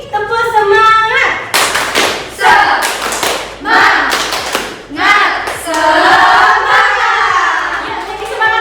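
A class of schoolchildren claps in loud, rhythmic bursts of a spirited classroom chant, sharp hand thuds falling in patterned groups between shouted group voices and an adult teacher's talk.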